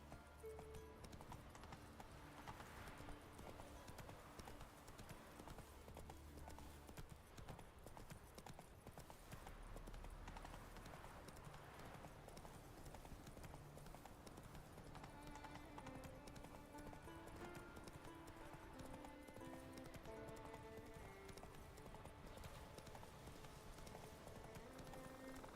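Horse hooves clip-clop steadily at a trot in The Witcher 3, a continuous rhythmic patter of game footsteps with a faint voice, all fairly quiet.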